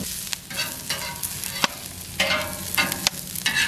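Onions sizzle and fry in a pan for a sea urchin dish, with repeated scraping stirs and louder bursts of frying between them, close and steady with no talk.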